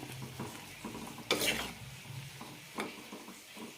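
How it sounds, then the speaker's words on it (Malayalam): A spoon stirs dried prawn theeyal curry in a pan, making scraping strokes with two louder sweeps, over a faint simmering sizzle, close and without speech. "നന്നായി മിക്സ് ചെയ്ത ശേഷം രണ്ട് മൂന്ന് മിനിറ്റ് കൂടി തിളപ്പിക്കാം"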